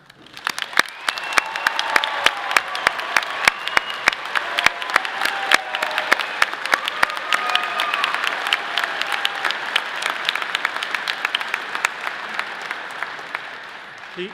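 Large commencement audience applauds summa cum laude, magna cum laude and honors graduates at a College of Natural Sciences ceremony; dense, steady clapping fills the hall throughout, sustained and evenly loud from start to finish.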